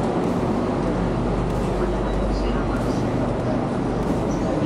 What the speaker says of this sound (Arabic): الآن نترك المحطة ونجرب مقصورة المترو.